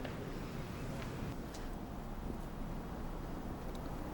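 Steady wind gusting across an open golf course during a professional tournament round, a continuous broadband rush buffeting the microphone at moderate level with no talk.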